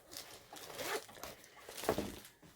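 A zipper on a large travel bag from a subscription box being pulled, short rasping strokes at close range, fairly quiet, with no talk.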